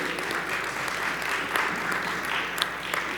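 Audience applause for the First Lady at a civic address, a steady dense wash of clapping throughout, moderately loud with a few sharper claps standing out.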